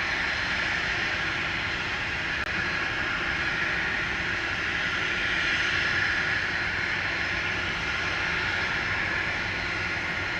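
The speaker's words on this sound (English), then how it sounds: "coming in is this Learjet 60 from the year 1999" A 1999 Learjet 60 comes in to land at Dallas Love Field with a steady jet roar and a prominent high whine. The sound holds at moderate level and swells slightly midway, with no speech.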